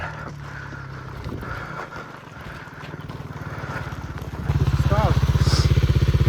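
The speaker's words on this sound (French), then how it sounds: "je lâche la clutch. Je vais m'asseoir dessus bien solide pour écraser la roue. Fait que ça va faire embrayer le moteur" A motorcycle being bump-started by dropping the clutch while rolling, after a dead battery: a low rough sputter builds, then the engine catches into a loud, steady, rapid putter near the microphone, with someone talking over it.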